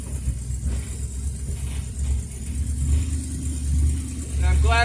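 Ford Fairlane with bench seats rolling down a road, a steady low engine and road rumble running throughout, building slightly louder toward the end, with a person talking over it.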